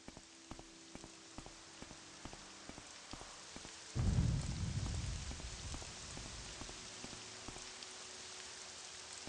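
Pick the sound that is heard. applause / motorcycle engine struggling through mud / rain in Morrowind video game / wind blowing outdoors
rain in Morrowind video game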